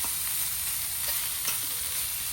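Tuna pieces with onions frying in a pan, a loud, continuous close-up sizzle with occasional spatters and stirring sounds throughout.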